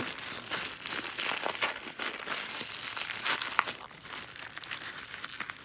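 Continuous crinkling and crumpling of paper wrapping, close by, with irregular rustles and sharper crackles throughout.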